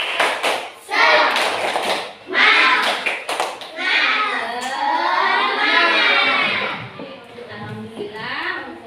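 Children perform the rhythmic 'tepuk semangat' clapping chant in an elementary school classroom, sharp bursts of group clapping alternating with loud shouted chanting voices, close and lively throughout.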